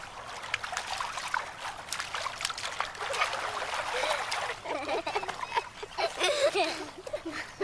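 Water trickles and splashes in soft irregular dribbles as a goat is washed outdoors in India, fairly faint and continuous with small splatters.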